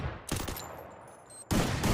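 Gunfire in a Thai-commentated shooting video game, a burst of shots, a quieter gap with faint tones, then another loud burst, with no talk.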